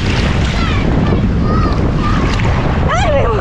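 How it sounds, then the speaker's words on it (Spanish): Rough, high sea surf washes over the beach at Rocky Cay, San Andrés, after rain, a loud continuous roar with heavy wind buffeting the microphone and voices faintly audible. "Como estuvo lloviendo, está muy alto el mar."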